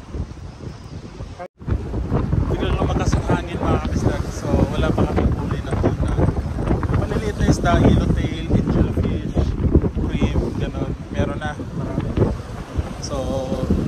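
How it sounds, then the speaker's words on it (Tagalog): Strong wind roars across the microphone in a steady, buffeting rush on a tuna fishing boat off Sydney, with the boat's motion and water noise beneath and a voice speaking through it. "Biglang lumakas ang hangin mga kabisdak"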